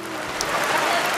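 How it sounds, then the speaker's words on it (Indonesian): Steady rain falls on Belitung during a film shoot, a dense, even hiss of drops with no pauses or voices over the short stretch. "Hari demi hari berlalu dan hujan masih tetap tidak mau mengalah"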